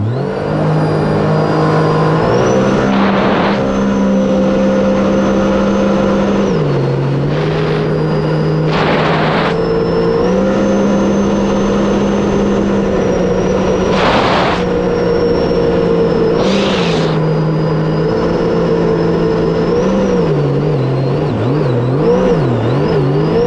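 A 2018 Sea-Doo RXP-X 300 jet ski fitted with a Riva Racing intake manifold girdle runs at full throttle, giving a loud, sustained engine drone whose pitch rises and dips as it surges, with bursts of rushing spray.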